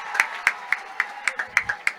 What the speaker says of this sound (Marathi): जोरदार टाळ्या या मॅचसाठी.